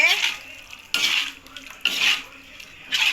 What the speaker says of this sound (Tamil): உப்பு சேர்த்துட்டு நல்லா கிண்டி விடுவோம்